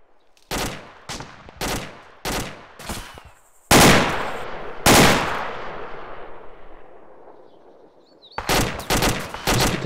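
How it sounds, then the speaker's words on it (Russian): Gunfire in the combat game ArmA 2 during a team-versus-team battle: several bursts of automatic weapon fire, two heavy booming shots with long decaying tails, then a fresh rapid volley at the end, fairly loud and close. "Ты не слышишь, что ли, что в спину стреляют?"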